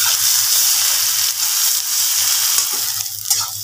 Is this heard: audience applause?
no